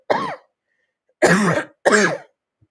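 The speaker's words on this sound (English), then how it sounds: "I'm okay with the cough." Three harsh throat-clearing coughs: one, a pause of about a second, then two in quick succession, close and fairly loud.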